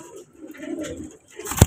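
Pigeons coo softly at close range in a short burst of low, rolling murmurs, followed by a sharper, louder bird call or flutter right at the end, with no talk.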